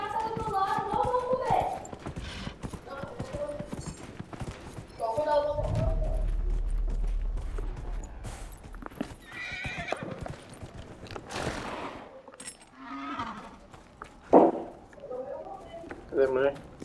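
A horse in Dragon Age: Inquisition gallops and neighs, with clip-clop hooves and several loud whinnies, close by, partly under someone talking and in-game voices.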